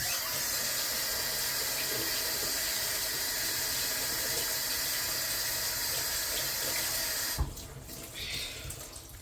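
African donuts frying in oil on a stove at medium heat give a steady, even sizzle and hiss that runs unbroken, then drops off abruptly near the end, leaving quieter clatter.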